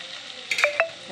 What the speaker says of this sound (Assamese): ধুনীয়াকৈ অকণমান ভাজি ল'ম